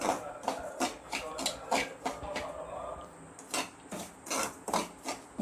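Wheat rava (samba rava) roasting in ghee and stirred with a spoon, giving repeated dry scraping, rasping strokes against the pan at a steady, fairly close rhythm, with no talk.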